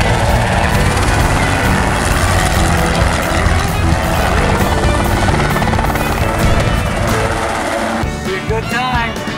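A loud helicopter used for netting deer in South Texas, its thumping rotor and engine roar dominating throughout, close and continuous, with a voice faintly audible underneath.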